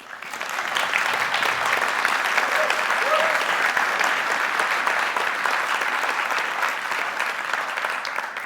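Loud, dense applause from a keynote crowd for the sponsors, a sustained wash of clapping that holds steady for several seconds with no voices on top.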